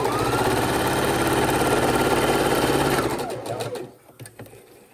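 A sewing machine stitching rows of a scrap quilt together runs in a fast, even mechanical whir for about three seconds, then slows and stops, leaving a few soft clicks and handling noises.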